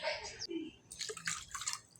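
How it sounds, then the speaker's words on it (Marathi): Water drips and trickles into a cooking pot for amti (lentil curry) in short bursts, close by, with a brief splash partway through. "मी आता पाणी घालते कारण मला आमटी करायची आहे"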